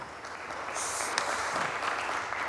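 Townspeople applauding, a broad steady wash of clapping that holds at an even level throughout, with a brief sharper swell near the middle.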